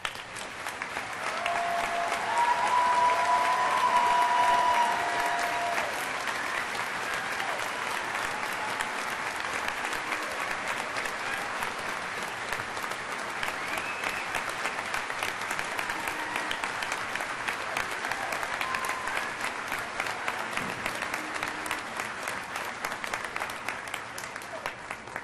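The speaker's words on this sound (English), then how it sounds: "give them a round of applause" Graduates at the 196th Commencement Ceremony of the College of LAE, May 7, 2016, give faculty and staff a long, sustained round of applause. It is loudest at first, then settles into steady crowd clapping for about twenty-five seconds.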